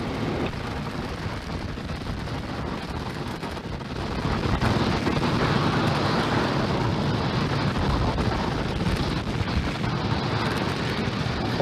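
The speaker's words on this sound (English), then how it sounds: "Falcon 9 successfully lifting off from pad 40 at Cape Canaveral Air Force Station" A SpaceX Falcon 9 rocket lifting off from pad 40 at Cape Canaveral Air Force Station, a steady, loud, broadband roar that thickens and swells after a few seconds and rumbles on without a break.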